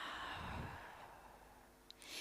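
A slow, airy exhale during a guided meditation session, soft and close, fading gradually into quiet.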